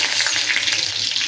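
Dried red chilies and chopped garlic sizzle in hot oil for a dal tempering, a dense, constant frying hiss close by with faint stirring bumps underneath and no voices.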